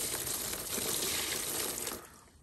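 Aquarium water pours from a jug into plant trays in a plant shop, a steady splashing gush for about two seconds that tapers off as the pour ends, close and alone without talk.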